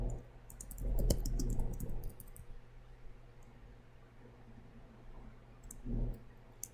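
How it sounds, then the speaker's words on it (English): Typing on a computer keyboard while writing a meeting agenda, a cluster of soft close key clicks at the start and another brief burst near the end, over quiet room hum. "And we type the name of the secretary,"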